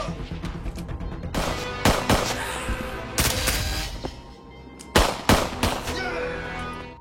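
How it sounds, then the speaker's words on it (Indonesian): Gunfire in a fight scene of an action film, with sharp loud broadband bursts in irregular clusters, some single shots and some quick volleys, over a continuous dramatic background bed. "terjadilah aksi tembak-tembakan"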